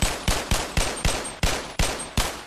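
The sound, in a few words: gunfire from a modded gun in the video game Bonelab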